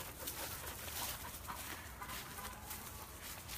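A dog outdoors in woods full of rabbits gives faint whimpering sounds through a constant noisy background, with no talking.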